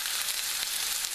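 Steak sandwich ingredients sizzle in a little oil in a pan over low heat, a close, steady hiss of frying with no talk.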